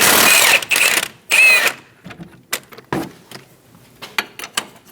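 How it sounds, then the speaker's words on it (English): A 22mm socket and wrench working a strut bolt nut loose on a 2008-2015 Scion xB, with several short metallic ratcheting and clinking bursts, close and loud at first, then lighter intermittent clicks. "Using a 22mm socket and a 22mm wrench, we're going to hold the head of the bolt while we remove the nut."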